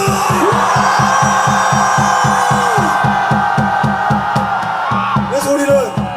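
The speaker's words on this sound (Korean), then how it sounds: "전방을 향해 함성" A patriotic rally crowd in Dongdaegu shouts and cheers together toward the stage, a loud sustained roar over rhythmic drumming and music with whoops rising near the end.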